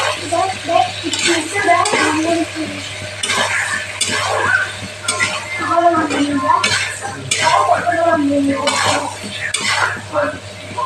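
A spatula scrapes and stirs koi fish curry masala with salt in a pan over a low sizzle, making loud, repeated rhythmic strokes close up for about eleven seconds.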